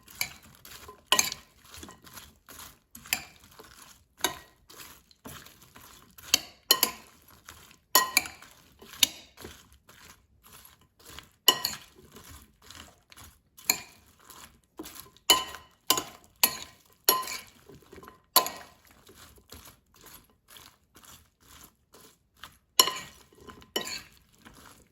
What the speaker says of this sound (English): And now toss it until everything is combined.